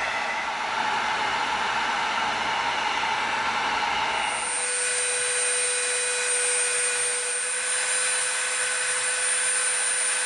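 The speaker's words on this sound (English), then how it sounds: "now we're going to Dremel the edge" Dremel rotary tool grinding the edge of EVA foam, a loud steady high-pitched whine that runs continuously and shifts slightly in pitch partway through, with no voices.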